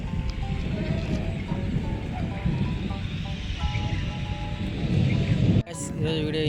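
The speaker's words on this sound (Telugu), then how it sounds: "వర్షం అయితే స్టార్ట్ అయింది" Rain starting to fall over paddy fields at harvest time, heard as a dense, loud, steady wash of patter with a sudden brief knock near the end.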